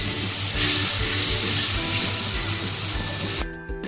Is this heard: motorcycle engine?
no